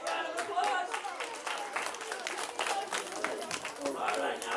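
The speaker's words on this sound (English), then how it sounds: "All right, big round of applause." Crowd at a live outdoor event clapping for a volunteer called up from the audience, steady applause lasting throughout with some voices mixed in.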